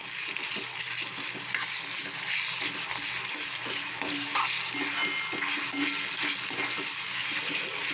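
Chopped onion with a spoonful of garlic paste frying in a pan for Malvani prawn masala, a steady close sizzle with occasional stirring scrapes throughout.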